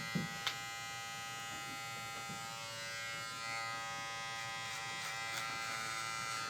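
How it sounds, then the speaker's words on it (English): A Wahl hair clipper buzzes steadily and close while fading hair, a constant electric hum with a couple of small clicks near the start. "I'm going to hold my clipper over the top of the ear to get over that."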